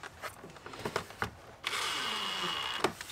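A power tool drives screws into a Toyota RAV4 TRD grille. A few light clicks and taps come first, then a close, steady motor whine runs for about a second and stops.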